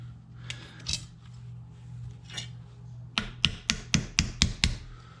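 Screwdriver working a pin out of the wood of a Lee Enfield bayonet: a few scattered scrapes and clicks, then a quick run of about seven sharp close taps.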